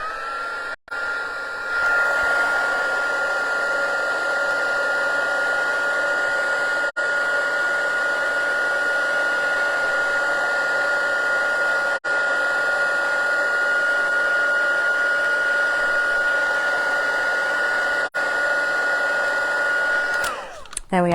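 A hair dryer blowing steadily on a layer of stamped ink, a loud continuous whirring hum that holds for about twenty seconds before switching off; no talking.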